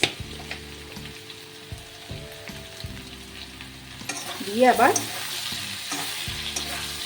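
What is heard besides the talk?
frying spices with coriander powder in a pan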